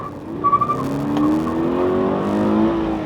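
Toyota 86 facelift with a manual gearbox and limited-slip differential drifting, its engine droning steadily with a brief high tire squeal early on, heard close from inside the car without talk.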